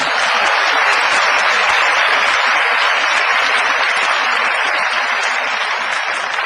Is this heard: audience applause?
yes